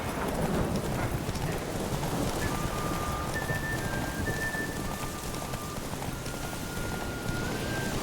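Roach the horse galloping in The Witcher 3, steady rapid clip-clop of hooves mixed with rain pattering, moderately loud and continuous with no talking.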